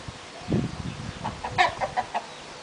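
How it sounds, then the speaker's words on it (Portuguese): Chickens cluck at a residential construction site, a low throaty note followed by a quick run of short, bright clucks, close and moderately loud over quiet background. "E as galinhas continuam por aqui."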